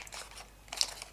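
Origami paper crinkles and rustles in two short bursts as a diagonal fold is made close by, quiet and without voices.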